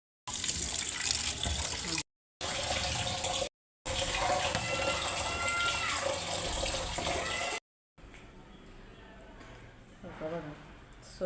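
Tap water gushing steadily into a sink or basin while goat mutton and trotters are rinsed, loud and continuous with abrupt cuts, then quieter clattering with a voice speaking.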